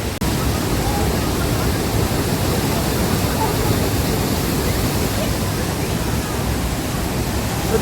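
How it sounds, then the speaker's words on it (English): The Rhine Falls near Schaffhausen in Switzerland, a very large waterfall, roars as a loud, unbroken broadband rush that fills the whole stretch without pause. "this waterfall is located along Schaffhausen route. And it's a very big one"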